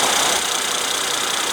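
A 2015 Mercedes-Benz ML400 with a 3.0-liter twin-turbo V6 runs steadily, giving a continuous, fairly loud whooshing hum with no change in pitch.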